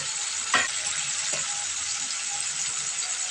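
Chopped tomato fries in spiced oil with a steady, hissing sizzle, broken by a couple of soft scraping knocks as the mixture is stirred in the pan.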